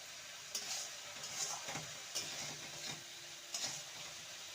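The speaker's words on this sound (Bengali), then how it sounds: "সমস্ত কিছু ভালো মতন কষিয়ে নেব" Spices for a pointed gourd (parwal) curry, with a little sugar added, sizzle steadily in hot oil in a pan, while a spoon scrapes through them in several distinct, regularly spaced stirring strokes. The sound is close and clear, with no talking.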